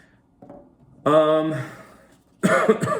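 A throaty cough followed by a voiced rasp, then another rough cough burst, close and loud, with brief quiet between.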